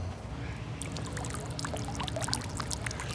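Water runs from a hose pipe into a container, a steady splashing pour with crackling droplets, close and moderately loud over a low background rumble.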